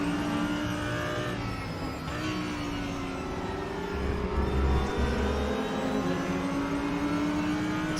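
Lotus and TCR race cars at TT Circuit Assen in RaceRoom Racing Experience, a steady engine whine rising and shifting as several cars accelerate together, with a deeper rumble swelling midway, moderately loud and free of talk.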